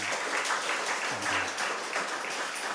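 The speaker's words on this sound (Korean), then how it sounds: "우리 박수로 환영하겠습니다." A church congregation applauds steadily during a service for a few seconds, a dense patter of many hands clapping together.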